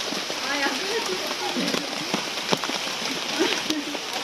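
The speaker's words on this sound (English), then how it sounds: "Be sleeping because it's raining." Steady rain hisses across the whole clip at the Chocolate Hills in Bohol, Philippines, with scattered drips and taps, while voices chatter softly underneath.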